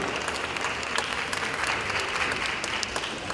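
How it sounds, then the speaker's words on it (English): A university convocation audience gives a steady, full round of applause after a performance. The clapping is dense and continuous and stays fairly loud throughout. "Yes, let's applaud them."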